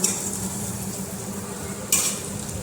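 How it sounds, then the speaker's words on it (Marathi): Chopped boiled potato fries in a pan with oil as sabudana khichdi cooks for Navratri, a steady soft sizzle with occasional stirring scrapes and one brief louder burst near the end, no voices. "एक बटाटा उकडून घेतला होता तो बारीक कट केला आणि त्यामध्ये फ्राय व्हायला टाकला"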